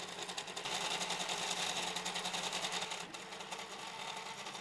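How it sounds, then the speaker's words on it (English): A cheap 3D printer fitted with a handmade pellet extruder runs with a loud, rapid mechanical buzzing and rattling, a dense stepper-like whir that drops slightly in level near the end. "The mechanics of the cheap printer in combination with the handmade extruder leads to a very high background noise from time to time."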